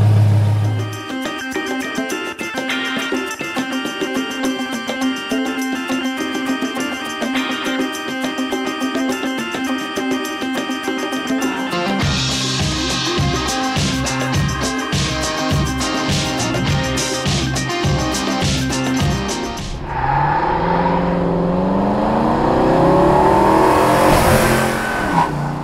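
A 1966 Shelby GT350 Mustang convertible's engine revs and accelerates on a test drive under steady music, with a rougher, louder engine surge near the end.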